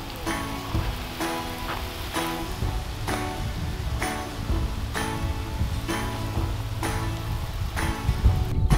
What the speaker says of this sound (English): And I ended up having to water each bed by hand.